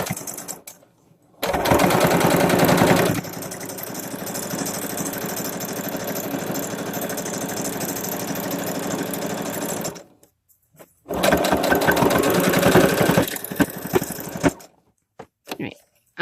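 A sewing machine stitches a loop of fabric for a dollhouse curtain with a puffy valance, running in a steady loud buzzing burst of about ten seconds, pausing, then a shorter second run and a few brief stops and starts.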